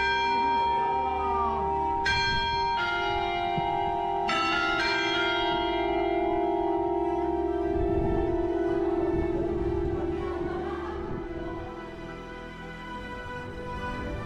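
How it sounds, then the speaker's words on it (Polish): Large church bells of Hallgrímskirkja in Reykjavik ring loudly and continuously from the tower, strikes overlapping in a long resonant peal with a steady hum beneath. "Na wieży można też przeżyć dźwięk kościelnych dzwonów"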